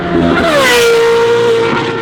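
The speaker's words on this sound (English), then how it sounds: "that amazing sound coming out of Ferrari" A Ferrari's high-pitched, screaming exhaust note rises sharply as the engine revs hard, loud and close, holding a sustained wail before easing off.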